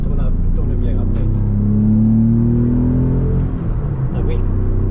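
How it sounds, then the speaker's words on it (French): Porsche 911 996 engine pulls under acceleration, a loud steady drone that climbs gently in pitch, heard from inside the car with voices talking over it. "Sébastien, accélère, tu verras que la voiture tourne bien après."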